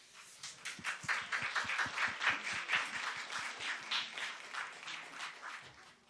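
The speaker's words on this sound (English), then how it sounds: "Can we have another round of applause for our incredible 3 YWAG women, please?" Audience applause at a gender equality symposium, a fairly quiet but steady patter of many hands clapping, swelling slightly in the middle and tapering off toward the end, with no speech over it.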